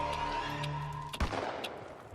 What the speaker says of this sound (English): there's the gunshot that kills him